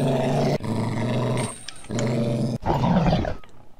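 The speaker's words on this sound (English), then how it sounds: "There's a dog on me!" A guard dog in the heist video game Monaco growls and snarls up close in repeated bursts, deep rumbling roars separated by short pauses.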